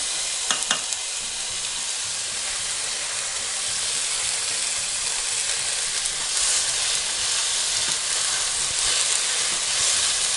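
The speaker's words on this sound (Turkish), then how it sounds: "Domates sosunu koyuyorum." Tomato sauce hitting a hot pan of manti sets off a loud, steady sizzle and steamy hiss, with a few brief clatters near the start and the frying continuing evenly to the end.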